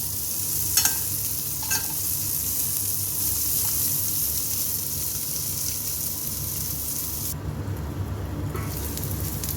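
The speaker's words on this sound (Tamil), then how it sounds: "இப்போது காலிஃப்ளவர் இந்த அளவுக்கு நல்லா ஃப்ரை ஆகிடுச்சு" Cauliflower pieces frying in a pan, a steady broadband sizzle throughout with a couple of brief stirring clinks early on; the hiss changes character near the end but continues, with no talking.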